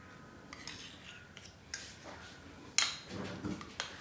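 A spoon adds ghee into a pan while a sweet is made from biscuits, producing faint scattered metallic clinks and scrapes against the pan in a quiet kitchen.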